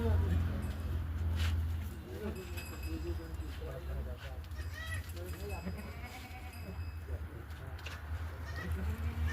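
Goats bleat at a crowded goat market in Jagjitpur, with calls rising now and then over constant chatter and background hum of the traders.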